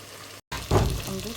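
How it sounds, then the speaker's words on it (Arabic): Tomato sauce poured into a hot pan with tomatoes for gluten-free pasta, a burst of sizzling and bubbling after a brief cut, fairly close and moderate. "هنا نضيف صلصة الطماط"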